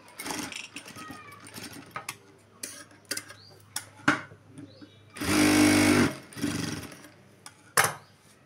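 A sewing machine stitches lining cloth on a hand section of a garment. Short whirring runs of stitching, one longer loud burst in the middle, and faint ticks in between, all close by.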